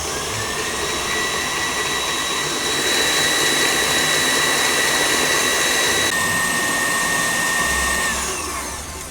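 Electric mixer beating Swiss meringue buttercream on high speed, a loud, steady whirring motor drone with a high whine that holds for most of the stretch before easing off slightly at the end, with no talk.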